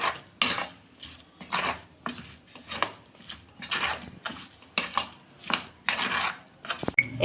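Banana stem fritter batter being mixed with meat masala by hand in a bowl, a steady series of wet squelching and scraping strokes repeating roughly every half second, close and alone.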